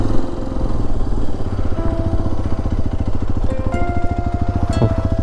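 Hero XPulse 210 motorcycle ridden on a ghat road near Madikeri, its single-cylinder engine thrumming loud and steady with rapid pulsing and mechanical clatter, occasional faint higher whines over the drone; no talk.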